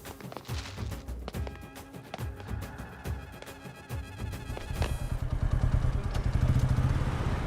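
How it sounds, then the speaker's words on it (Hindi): A motorcycle is kicked over several times with sharp mechanical clacks and thumps before the engine catches and settles into a fast, steady putter up close. "बाइक को किक मार"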